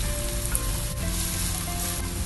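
Chopped onions hitting hot oil already holding cumin seeds, whole garam masala and garlic in a pan for palak paneer, with a loud, dense, continuous sizzle and hiss, close up and alone.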